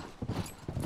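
Horse hooves clip-clopping in The Last of Us, a quick pair of paired thuds on the ground, close and moderately loud, lasting under a second.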